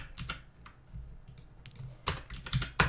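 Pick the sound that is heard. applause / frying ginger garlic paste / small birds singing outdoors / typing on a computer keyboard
typing on a computer keyboard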